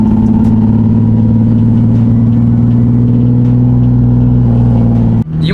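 A car engine drones steadily at a held rev during a test drive after a short shifter install, a loud sustained hum that drops off abruptly near the end.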